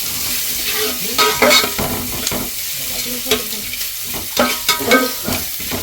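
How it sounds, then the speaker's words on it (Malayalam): Sliced onions with salt frying for rava upma, stirred briskly in a hot pan: a close, constant sizzle with irregular scraping and tapping of the spoon against the pan, and no one talking. "ഉള്ളി ഇട്ടിട്ടുണ്ട് പിന്നെ ഉപ്പിട്ട് ഒന്ന് ഇളക്കി കൊടുക്കാം"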